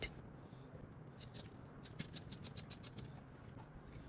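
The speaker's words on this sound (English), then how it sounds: "Now we cut waistband." Scissors cut fabric for a trouser waistband, a run of quiet, crisp snipping clicks that speed up over a faint steady background hum.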